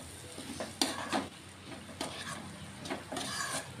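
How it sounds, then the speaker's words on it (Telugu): A spoon stirs tomato curry in a pan with scraping strokes in a loose, irregular rhythm over a soft simmering sizzle, close and moderately loud, with no talking. "ఇలా అంతా నీట్గా కలుపుకోవాలి"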